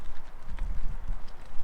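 Cows on a farm head into the shed with heavy, uneven hoof thuds and shuffling on the ground nearby, a loose walking rhythm with no talk.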